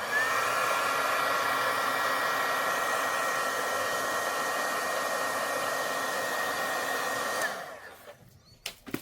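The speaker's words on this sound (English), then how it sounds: "let me hit it with my heat tool" A heat tool blowing hot air to dry embossing ink, a steady loud whooshing roar running continuously for about seven seconds before switching off and winding down.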